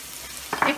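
Ground spices with green chili paste and salt frying in a pan of oil, giving two short, close sizzling bursts as they are stirred after a quiet start.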